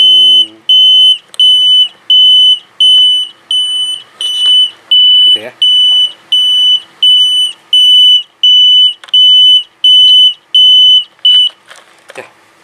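A buzzer on a homemade railway crossing alarm flasher, modeled on crossing JPL 231 Cigedogan, Purwakarta, beeps loudly in a steady on-off rhythm about a dozen times, with a person speaking briefly.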